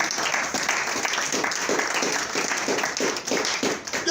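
A church congregation applauds and acclaims Jesus with loud, sustained clapping that fills the room, rhythmic beats running through a dense wash of many hands, with voices mixed in.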